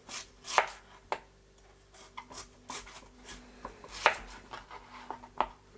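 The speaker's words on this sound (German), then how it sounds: "Und dann anfangen, ihn in, naja, so 8 mm Scheiben zu schneiden." A knife cuts through peeled kohlrabi into thick slices on a board, producing several sharp, separate chops at an uneven pace, close and fairly quiet, with no talking.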